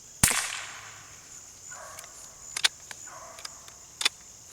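A Quackenbush air rifle fires a single sharp crack at a target range, followed by faint clicks and light handling noises in an otherwise quiet setting.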